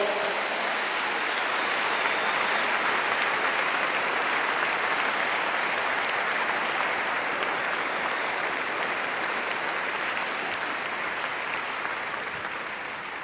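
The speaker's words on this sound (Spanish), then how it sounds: "Dale fuerte ese aplauso a Dios." A church congregation applauds during a sermon, producing dense, sustained clapping from a large crowd that holds steady for about thirteen seconds with no speech over it.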